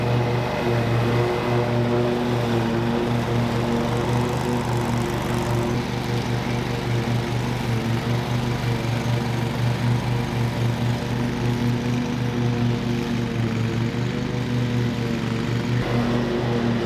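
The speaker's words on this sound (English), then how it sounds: "I'm gonna go grab the lawnmower and go annihilate some grass." A lawn mower engine drones steadily and loudly throughout, a constant close-up hum with no talking.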